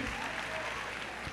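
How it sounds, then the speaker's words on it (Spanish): A church congregation claps during a Spanish-language worship service, a brief burst of dense applause with voices mixed in. "Dele fuerte el aplauso a Jesús."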